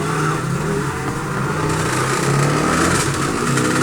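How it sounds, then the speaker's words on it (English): Motorbikes rev outside, their engine noise a continuous, fairly loud rumble heard from indoors for the whole stretch, with no talking. "Bloody motorbikes outside,"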